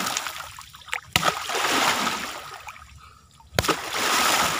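Water splashing and sloshing around someone fishing early in the morning in a stream with nets, with uneven bursts and two sharp splashes standing out over gentle trickling, close by.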